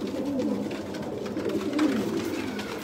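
Sialkoti pigeons cooing close by, a continuous low murmuring coo that carries through the whole moment without talk.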